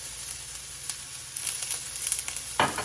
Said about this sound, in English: some purple red onions. So I'm gonna put these in here. Let those start frying up.